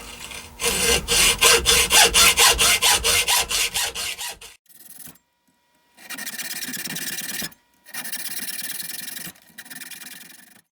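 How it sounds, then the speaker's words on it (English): A hacksaw cuts into a steel AR15 wrench, its strokes rapid and rhythmic at first, then after a short pause resuming in two longer bursts of rasping strokes, loud and close. "Okay, I'm going to cut in with this hacksaw."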